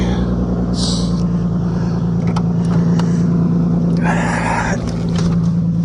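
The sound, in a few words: 1998 Lexus GS300 driving on a test drive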